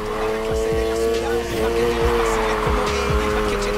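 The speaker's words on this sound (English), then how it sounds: "Start the drift, slam on the gas once and steer." A drifting car in the racing game NFS Heat shrieks with sustained tire squeal over a loud, steady engine roar that rises and falls as the throttle is worked, with a voice speaking briefly over the game sound.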